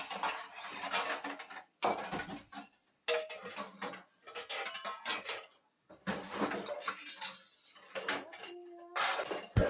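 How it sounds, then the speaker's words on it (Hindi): Steel kitchen utensils and pots clatter and clink as they are lifted out and set down on a counter in a home kitchen, in short irregular bursts separated by brief pauses. "यहाँ मैं अपने ना सारे बर्तन जो थे ना निकाल के रख दूँगी बाहर।"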